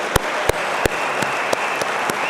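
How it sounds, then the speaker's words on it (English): A few audience members clap sparsely, about seven sharp, evenly spaced claps over a steady room hum, to honor head office staff at a company gathering. "everyone at head office deserves a massive round of applause"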